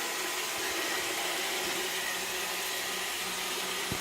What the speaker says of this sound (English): Let's see if we can get a good 10 minutes of Roomba by iRobot.